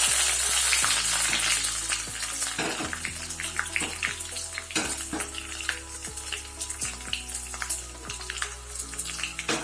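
Garlic cloves and curry leaves frying in hot oil in a pan for vegetable sambar, a steady loud sizzle with crackling spits and pops throughout, no voices.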